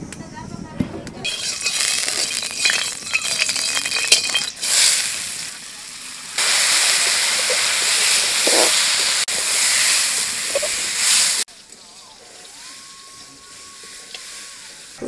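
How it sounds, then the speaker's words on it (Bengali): Masoor lentils frying in a little oil give off a steady broadband hiss and sizzle in several loud stretches, dropping to a quieter, thinner sizzle near the end. "একটু তেল দিয়ে ডালটা ভালো করে ভেজে নেব"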